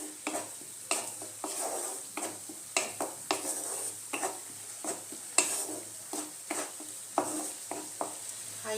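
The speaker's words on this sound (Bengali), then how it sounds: "এবার ভালো মতো এগুলোকে আমি মশলাটাকে কষিয়ে নেব।" Spice masala with Kashmiri chili powder being sautéed in a kadai over a high flame: a steady low sizzle broken by repeated rhythmic scrapes and clinks of a spatula against the pan.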